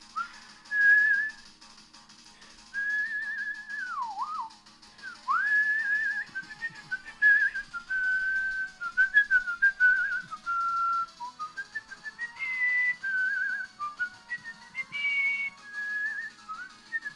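A person whistles Cynthia's theme from a Pokémon game alone, a clear wavering melody with slides, dips and pauses between phrases that climbs higher toward the end.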